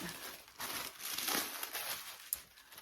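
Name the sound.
paper crinkling as Gucci packaging is slid out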